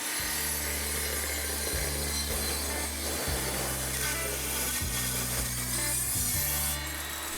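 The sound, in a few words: table saw cutting a 1/8 inch strip of wood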